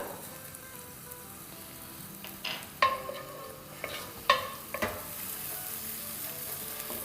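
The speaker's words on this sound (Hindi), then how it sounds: "तो यहाँ जहाँ तेल डाला हुआ है वहाँ डालेंगे हम 1 टीस्पून सफ़ेद ज़ीरा" A teaspoon of white cumin seeds sizzles steadily in hot oil for a dhaba-style aloo masala, a soft constant frying hiss broken by a few sharper pops and stirring scrapes, with no talking.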